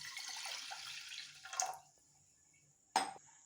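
Water, about 100 ml, is poured into a pressure cooker holding washed moong dal for rava pongal, making a soft splashing pour followed by two brief clinks of the pot. No one speaks.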